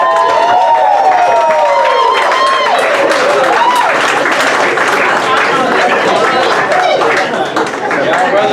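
Comedy club audience bursting into loud applause and cheering with whoops and chatter, dense and close throughout, mixed with crowd voices.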